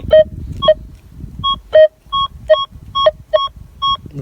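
A metal detector sweeping ground in Ukraine gives a run of short electronic beeps, about a dozen evenly spaced pulses with a steady rhythm, close and clear over low handling rustle.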